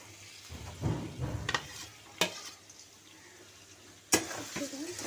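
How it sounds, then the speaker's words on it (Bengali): Shrimp being stirred and fried in a pan for a banana-flower and coconut curry: a soft continuous sizzle broken by a few sharp spatula knocks and scraping bursts, heard close with no voices. "চিংড়ি মাছ দিয়ে নাড়াচাড়া করছি।"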